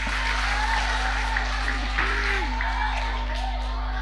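Children at a seminar clap their hands together, a steady crowd of claps over a constant low electrical hum, with a few faint voices and a sliding tone heard beneath.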